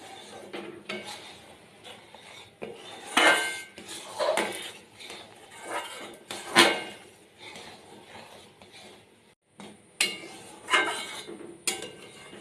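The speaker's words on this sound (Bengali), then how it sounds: "এইভাবে একটু নেড়ে নেড়ে গায়ে যে দুধের সরগুলো লেগে যাচ্ছে সেগুলো একটু খুন্তি দিয়ে ছেনে ছেনে দুধের মধ্যে দিয়ে দিতে হবে" A metal spatula scrapes the sides of a pot of milk being boiled down thick, giving irregular clattering scrapes and clinks that come in clusters with short pauses, close by.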